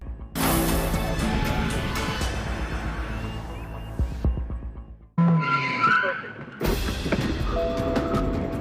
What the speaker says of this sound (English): And struggling on 3 wheels, he loses it. 60, it's a loss of control.